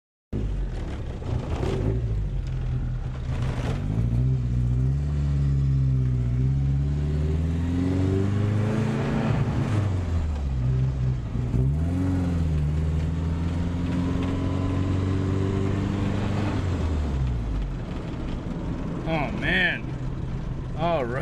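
Turbo Datsun 510 engine on a test drive, revving up and down through several gear changes with rising and falling pitch, loud and close from inside the car, with some wind and road rumble.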